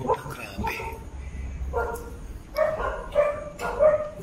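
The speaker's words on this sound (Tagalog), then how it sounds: "may aso pa may kumakahul" A dog barks repeatedly at an abandoned chapel, several clear barks in a loose rhythm, heard under people talking nearby.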